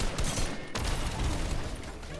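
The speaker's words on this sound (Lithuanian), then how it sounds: "O, iš viršaus šaudo." Gunfire in the video game Fortnite, shots coming from above: a dense, loud barrage of rapid reports packed tightly together with a brief break in the middle.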